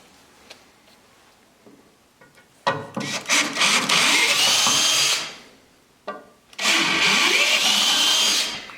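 Power drill boring holes on a workbench for mounting a Warn winch, two loud sustained drilling bursts of a few seconds each, close up, separated by quiet gaps with faint clicks.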